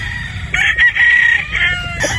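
A game fowl stag rooster crows loudly and close by, one full cock-a-doodle-doo call lasting about two seconds, with no talking.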